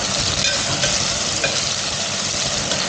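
Chicken curry frying in a pot as it is stirred, giving a steady, dense sizzle that runs without a break through the whole stretch, with no voices over it.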